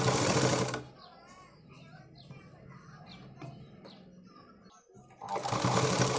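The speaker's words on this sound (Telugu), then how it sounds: "ఇలా మనం ఈ కుట్టు పైనే కుట్టు పడే విధంగా కుట్టుకోవాలండి" A sewing machine stitches net cloth sleeves onto a blouse. Loud, steady whirring bursts open and close the stretch, with a quieter gap between them where a person talks.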